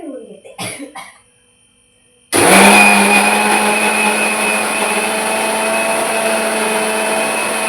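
A kitchen mixer grinder blends beetroot juice with a lump of jaggery and water, starting suddenly after a few brief throat sounds and then running loud and steady with a constant motor whine.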